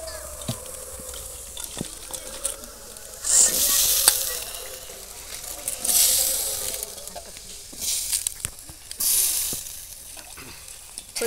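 Peeled drumstick pieces (sajne data) fry in hot oil, a steady loud sizzle that swells into bursts of hissing as they are stirred, with occasional scraping of a spatula in the pan.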